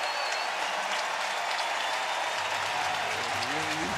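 Baseball stadium crowd roaring and applauding a player's first major league hit at a Diamondbacks–Giants game, a dense, steady wash of cheering and clapping throughout, with a faint whistle-like tone near the end.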